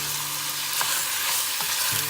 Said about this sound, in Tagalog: Then add in your chicken. Saute until the meat is a little bit brown.